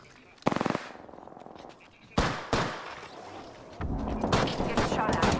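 Gunfire in the shooter game Apex Legends: a short automatic burst, then single heavy shots and a sustained rattling stream of fire, loud and close, with speech mixed in.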